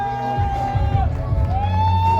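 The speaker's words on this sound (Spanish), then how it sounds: "Fuertes los aplausos, que se escuchen esos aplausos." A lively crowd at a festive gathering cheers and whoops, with a sustained voiced shout and scattered claps mixed into a loud, close hubbub.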